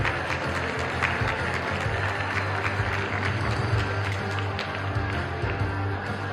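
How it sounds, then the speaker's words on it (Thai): Steady, dense applause from a gala audience at a Thai movie premiere for the film Rider, filling the space evenly without breaks and with a low hall hum beneath it. "ขอเสียงปรบมือด้วยค่ะ"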